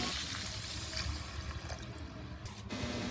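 Water pours into a frying pan holding tofu and cabbage, a brief splashing gush and sizzle that stops abruptly near the end, fairly faint, no talking.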